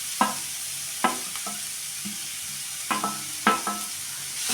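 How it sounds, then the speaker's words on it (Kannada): Carrots frying in ghee in a pan for carrot halwa, a steady soft sizzle broken by several sharp scraping stirs, some spaced apart and some close together. "ಸ್ವಲ್ಪ ತುಪ್ಪದಲ್ಲಿ ಚೆನ್ನಾಗಿ ಫ್ರೈ ಮಾಡ್ಕೊಳ್ಳೋದು"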